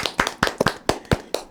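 A handful of people clap at the introduction of a guest speaker, about eight distinct nearby hand claps in a brief uneven burst, with no other voices over it.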